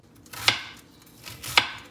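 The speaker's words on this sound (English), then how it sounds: "Just chopping up some onion." A knife chops onion on a cutting board: two crisp, separate cuts about a second apart, near and fairly quiet, with no speech.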